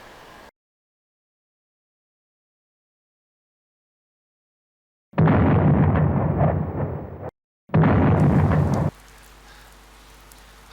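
Rain falls in a steady hiss that starts abruptly after silence, swells in two loud bursts with a short gap between them, then settles to a fainter patter.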